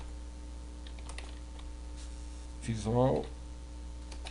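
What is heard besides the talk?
typing on a computer keyboard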